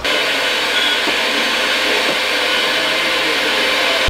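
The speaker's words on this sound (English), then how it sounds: "I should vacuum this out while I have it open." A loud, steady vacuum cleaner drones close by while cleaning out the interior of a drift Corvette, its constant whine holding level throughout with no talking.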